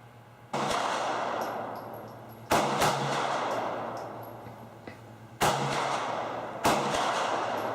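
Four loud, sharp reports from a Boberg XR9-S compact pocket pistol, spaced irregularly over several seconds, each with a short decaying tail and no talk over them.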